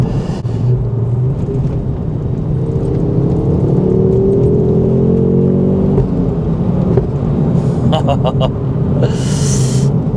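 A Ford Focus RS Mk2 engine hums steadily from inside the cabin, a low droning rumble with gentle shifts in pitch as it drives, with brief clicks near the end.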